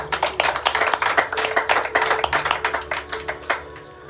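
A church congregation clapping for the Lord in quick, rhythmic unison, sharp hand claps landing steadily at a brisk pace before easing off at the end, with no one speaking.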